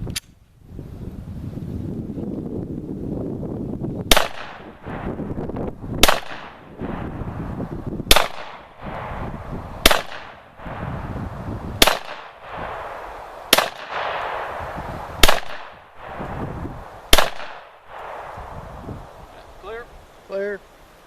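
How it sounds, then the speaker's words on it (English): Eight sharp, loud pistol shots from a Glock fitted in a CAA Roni conversion kit, fired at a steady pace about two seconds apart, each followed by a brief ring-out over faint outdoor ambience. "I'm going to rip off about 8 shots with it and see how it fires"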